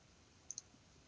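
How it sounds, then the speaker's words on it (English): A computer mouse gives two quick, soft clicks in close succession during a software install and setup, with a faint third tick shortly after, all against a quiet background. "I'm going to click OK"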